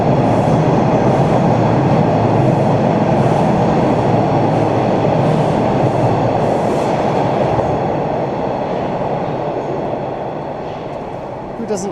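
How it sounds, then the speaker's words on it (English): A Toronto subway train pulls into a station with a loud, steady rumble and rushing roar, the rolling noise holding strong before easing off slightly near the end. "Is it cruel if I make you guys wait for the train with me?"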